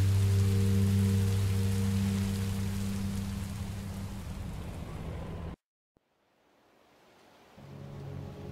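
Rain pours steadily in the Minecraft: Story Mode video game over a low droning tone, then cuts out abruptly to near silence before a faint hiss slowly returns.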